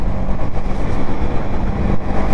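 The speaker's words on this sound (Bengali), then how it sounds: "তো ভাই আমি কেটিএম চালাচ্ছি 390" A KTM 390 motorcycle under way, its engine a steady loud low rumble with continuous wind and road roar throughout, no pauses or distinct gear changes.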